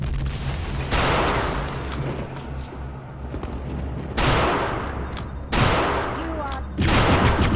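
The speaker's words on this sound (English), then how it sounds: "I shot her like 3 times with the rifle in the back." Rifle fire in the Return to Castle Wolfenstein co-op game: several loud bursts of shots with echoing tails, at times over a low background drone.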